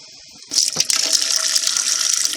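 Water poured into a home canner for canning potatoes, starting abruptly after a brief quiet moment and continuing as a loud, close, steady gushing splash.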